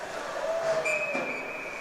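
During a men's ice hockey championship game between Ontario and Manitoba, a referee's whistle gives a single short, shrill blast that shifts in pitch partway through, heard faintly over the arena's low background.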